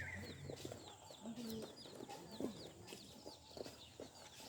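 Chicks and hens at a market stall where chicks are sold, with soft clucking and bursts of high cheeping over a low background murmur.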